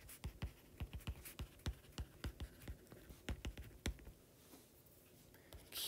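Handwriting of a math solution, a series of soft, close pen or pencil scratches and taps in an uneven rhythm, quiet and with no talk.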